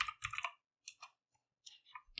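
A computer mouse gives quick, faint paired clicks during work in the Godot game engine, with short quiet gaps between small groups of taps.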